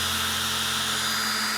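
A small electric drill motor turning an oil pump to prime a 1971 Plymouth 'Cuda engine, a steady unbroken whine with a low hum beneath, close and loud, holding speed without bogging.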